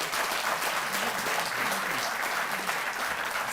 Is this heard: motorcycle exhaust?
no